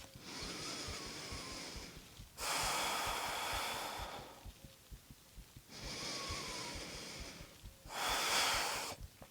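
Deep yoga breathing, close and clear: long drawn breaths in and out with quiet pauses between them, in a slow, even rhythm with no talking.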